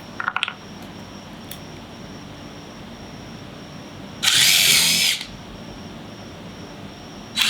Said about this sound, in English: if you don't have one of these impact drills,